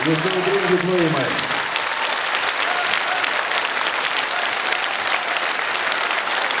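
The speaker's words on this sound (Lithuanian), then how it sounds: "Jūsų audringi plojimai." Audience applause after a Lithuanian dance performance at a school or community event, sustained steady clapping filling the room for several seconds, with a voice briefly speaking over the start.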